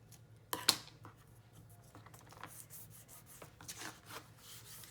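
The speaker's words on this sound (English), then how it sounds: "And then I'm going to cut it." Scissors cut paper for a handmade journal, with a sharp snip followed by soft, intermittent rustling and slicing sounds, close and quiet.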